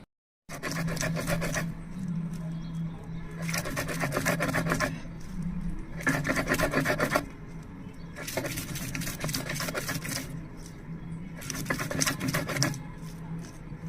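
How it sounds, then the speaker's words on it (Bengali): Green beans ground by hand on a grinding stone make rhythmic bursts of gritty scraping, five strokes separated by short pauses, close and clear with no talk. "এখন সিমগুলো বেটে নিব"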